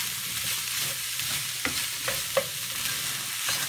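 Seasoning mixture for nachos cooking in a pan with a steady low sizzle, plus a few sharp scrapes and taps as it is stirred.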